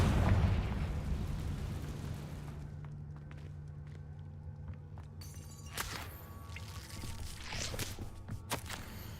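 A Confringo blasting spell in Hogwarts Legacy: a loud burst and rumbling blast at the start that fades out, followed by scattered faint thuds, crackles and footsteps.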